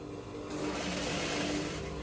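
A sewing machine stitching fabric for a Yoruba iro and buba starts after a brief moment of quiet and then runs in a steady, fast, continuous whir close by.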